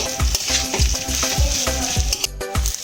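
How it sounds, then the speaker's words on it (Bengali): Drained rice, cashews, raisins and grated ginger are stirred and lightly fried in a pan for basanti pulao, a busy sizzle with repeated scraping strokes of a spatula in a quick, regular rhythm. "এর মধ্যে চালটা আমি হালকা একটু ভেজে নেব"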